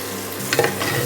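Masala sautéing in oil for turkey berry biryani, a short burst of sizzling with a quick stir and the scrape of a spoon in the pan, no talking.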